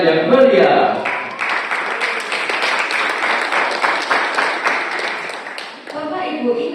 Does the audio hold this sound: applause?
yes